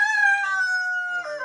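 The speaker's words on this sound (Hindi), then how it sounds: "ये मुर्गा नॉर्मल मुर्गा नहीं है, फाइटर मुर्गा है।" A fighting rooster in a Thai village gives a single loud, close, drawn-out crow that wavers at the end, with no speech.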